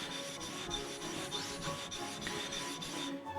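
The back of a Japanese chisel is rubbed on a sharpening stone, making steady, close rasping strokes in a regular back-and-forth rhythm with no voices.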